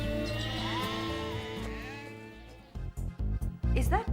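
Sheep bleat in a farm setting, a ram among ewes, with long wavering calls giving way to a run of short, loud, choppy bleats close by.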